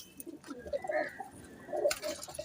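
Pigeons coo softly in a loft, a few low rolling calls close by with light rustling and faint background noise.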